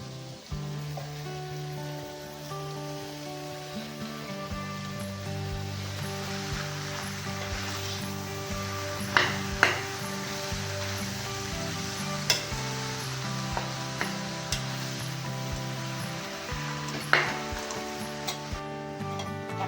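Chicken and spices fry in a pan for a curry with banana stem, giving a continuous close sizzle broken by occasional sharp spatula scrapes and taps against the pan, with no voices.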